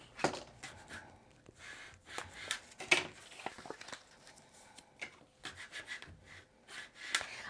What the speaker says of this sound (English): I'm going to bring those in and give them a good burnish.